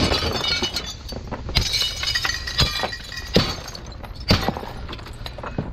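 Glass is smashed for fun, giving a sequence of sharp, loud shattering impacts spaced about a second apart, each followed by tinkling shards, with no voices.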